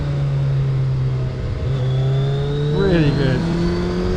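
A 2021 Suzuki Hayabusa motorcycle engine pulls steadily under acceleration with quick-shifter gear changes, its pitch rising and dropping around the shifts, loud and close, while a rider speaks briefly over it.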